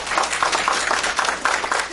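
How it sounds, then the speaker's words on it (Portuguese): Dense audience applause for Dr. Alessandro Santoro at a spine-health lecture, a steady crowd of many hands clapping continuously at moderate loudness. "Uma salva de palmas para o Dr."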